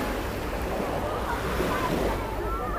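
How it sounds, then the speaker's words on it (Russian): Small sea waves wash steadily onto the Crimean coast, a continuous even surf roar with some wind rumble, close by and fairly loud, with no talking. "Небольшая волна поднялась такая."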